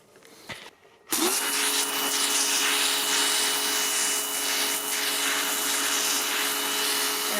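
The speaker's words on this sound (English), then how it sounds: "a pressure washer." A pressure washer spraying an EGR cooler that has been soaked in oven cleaner, a steady loud hissing roar that starts abruptly after a short quieter lead-in and holds continuously to the end.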